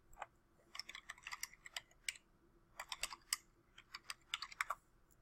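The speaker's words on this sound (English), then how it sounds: "I'm going to type in crime scene sketch." Someone types a search on a computer keyboard: quiet, close key clicks in quick irregular bursts separated by short pauses, with no voice over them.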